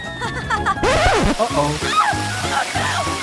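Cola pours and splashes from an upturned bottle in a rushing, sloshing stream, heard close and loud beneath animated talking.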